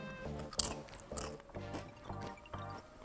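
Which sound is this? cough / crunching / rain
crunching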